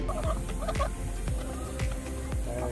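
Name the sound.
chickens clucking while eating scorpions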